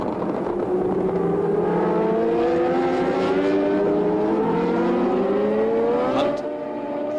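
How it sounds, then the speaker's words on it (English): A Kojima Formula One race car screams past at the Japanese Grand Prix at Fuji, its loud engine note climbing steadily in pitch as it accelerates and then quickly fades at the end. "And there's one of the Japanese cars, the Kojima all-Japanese car."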